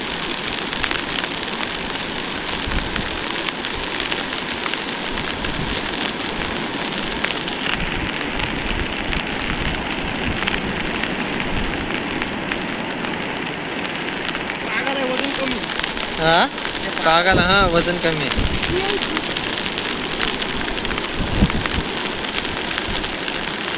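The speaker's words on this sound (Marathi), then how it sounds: "वारा जामत आहे ना पाऊस तुफान पडतं एकदम" Heavy rain pours steadily with gusty wind roaring throughout, while people talk briefly partway through.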